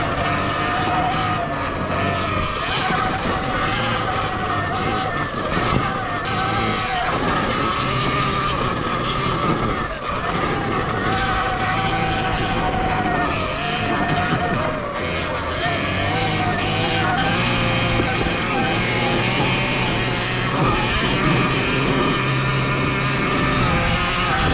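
An Ultra Bee electric dirt bike on new Dunlop tyres climbs a hill, its motor and drivetrain making a steady, loud, continuous whine and rumble throughout, close to the rider with no talk.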